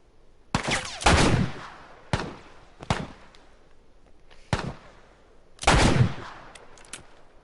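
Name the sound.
sniper rifle gunfire in video game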